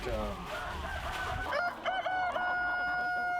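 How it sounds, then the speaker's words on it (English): Chickens cluck and a rooster crows with a long, rising call near the end, over a steady low rumble of background noise. "these are hemp-fed chickens"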